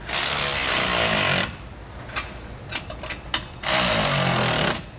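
A power tool, likely an impact wrench with a 19 mm socket, tightens U-bolt nuts on a fifth-wheel trailer axle in loud bursts of about one second, with quieter clicks and taps between them and no talk.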